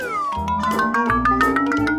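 A kitten meows repeatedly in loud, close, rising and falling cries, with a steady tonal backdrop underneath and no talking.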